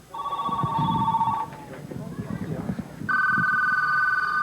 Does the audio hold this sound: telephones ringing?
yes